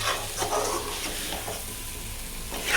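Masala for a potato chicken gravy stirred in a pan, a steady broadband scraping and sizzling texture with soft periodic strokes, close and continuous with no voices.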